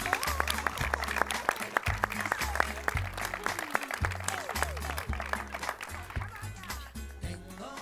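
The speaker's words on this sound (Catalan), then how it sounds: "un aplaudiment per als amics del museu" At a centenary gala for the Manacor history museum, an audience claps under a loud pulsing bass-heavy music track, with a voice speaking over the applause.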